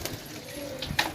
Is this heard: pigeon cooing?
yes